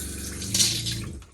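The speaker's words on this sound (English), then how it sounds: "Once we validated the water was running fine through the new faucet" Water runs from a new shower faucet installed in a Winnebago Travato 59G Class B RV camper van, a short steady hissing spray that tapers off at the end.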